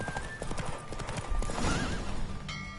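Roach, a horse in the video game Witcher 3, gallops in a race with rapid clip-clop hoofbeats and a brief whinny, close and continuous under game ambience.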